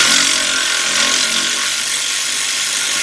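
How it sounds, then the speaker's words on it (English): A 3/8-drive cordless ratchet with a 16mm socket spins off a nut on the right front strut of a 2006 Mercedes-Benz CLS 500. It makes a loud, steady, close-up mechanical whir that lasts about three seconds. "I got a 16mm socket, 3/8 drive with my 3/8 drive cordless ratchet"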